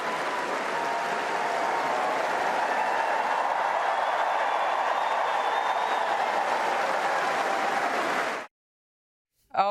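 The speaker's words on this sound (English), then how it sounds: "Princess Kate made an appearance over the weekend at Wimbledon and she was greeted to a rapturous applause" A large Wimbledon crowd gives Princess Kate rapturous applause, a dense, steady wash of clapping and cheering that holds at full strength for about eight seconds before cutting off abruptly into silence.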